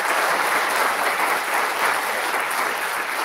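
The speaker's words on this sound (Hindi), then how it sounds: "ताली बजा सकते" Dense, continuous applause from an audience at an expert pharmacy lecture at a university, a steady wash of many hands clapping at once with no voices on top.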